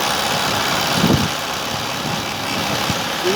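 A 2 kW BLDC washing machine motor runs with a steady, loud mechanical hum and broadband whir, holding a constant level with slight surges and rattles.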